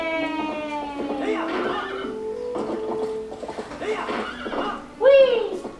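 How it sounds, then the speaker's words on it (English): A horse in the video game Zelda Twilight Princess whinnies loudly, then clip-clops along as a voice chatters excitedly over it, before a second short, sharp neigh rings out near the end. "Giddy up, Ipana."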